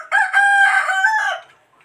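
A rooster crows loudly and close by in the morning, one full cock-a-doodle-doo lasting over a second and fading at the end.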